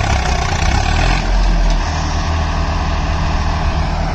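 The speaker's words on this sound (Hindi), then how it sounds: "फंस गया भाई ट्रैक्टर दलदल के अंदर।" A Swaraj 855 or Farmtrac 60 tractor engine roars and strains while stuck in swampy mud, a loud, continuous low rumble that holds steady with no voices over it.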